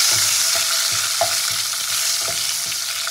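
Chopped tomato fries in oil over tempered spices, a bright continuous sizzle with soft, regularly spaced stirring scrapes and clicks of a spatula in the pan, close and moderately quiet.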